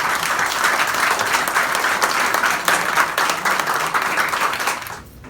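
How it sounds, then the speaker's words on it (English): Loud, close round of applause from an audience at a reception greeting a retired Rear Admiral; dense clapping holds steady, then tapers quickly and fades out at the end. "Please give a round of applause."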